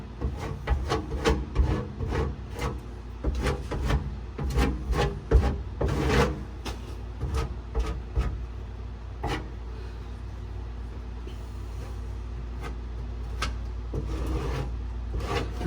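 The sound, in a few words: cheese grater rasping repair on Pontiac floor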